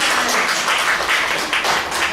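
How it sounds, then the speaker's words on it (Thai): A church congregation claps to welcome visiting guests, a dense, steady round of applause from many hands with little else heard. "เราปรบมือต้อนรับ"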